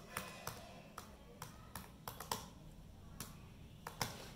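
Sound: typing on a MacBook Pro 2017 keyboard

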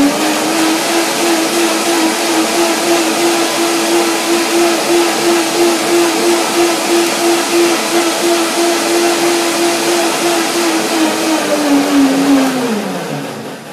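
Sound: blender blending chili lime almond dressing

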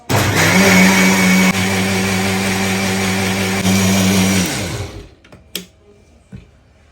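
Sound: mixer grinder blending whipping cream

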